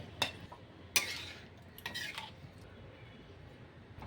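Spoon mixing vegetarian biryani ingredients in a pot, a few clinks and scrapes of metal against the vessel, sparse and fairly close, with quiet gaps between.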